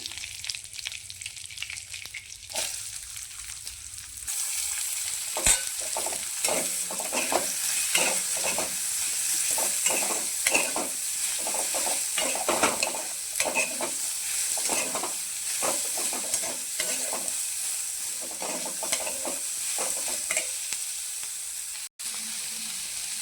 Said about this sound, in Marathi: तर याच कढईमध्ये आपण कांदा फ्राय करून घेऊया